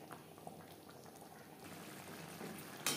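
Fish curry simmering in water in a pan, a soft steady bubbling and faint fizzing that stays low and even throughout, ending with a brief louder rustle.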